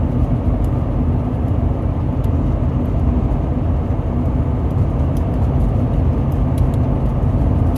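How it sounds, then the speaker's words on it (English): A lone car on an empty road through the Texas Davis Mountains passes as a steady, loud broadband rush of tire and engine noise that holds level for the whole stretch, with no voices. "Here comes one car"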